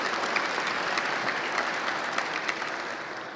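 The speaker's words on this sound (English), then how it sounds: "So I'm going to ask for applause for you" An audience at a police medal and promotion ceremony claps together, with dense, even applause holding for a few seconds before beginning to taper at the end.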